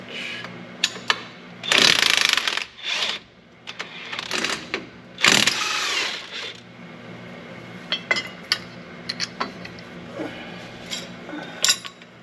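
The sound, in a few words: electric wrench with 18mm socket during combine repair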